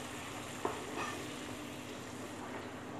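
Vermicelli pilaf being stirred in a pot after hot water and a bouillon cube go in, a soft continuous sizzling wash with a couple of faint utensil scrapes, close and steady with no talking.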